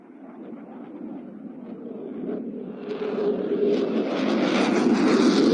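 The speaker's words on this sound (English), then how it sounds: "It's the FA-18C Hornet from the Swiss Air Force" A Swiss Air Force F/A-18C Hornet flies a display at the Cosford airshow, its jet roar swelling steadily from a moderate rumble to a loud, broad rush as it approaches.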